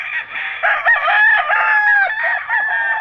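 Several chickens cluck and a rooster crows loudly and close by, the calls overlapping continuously with no talking.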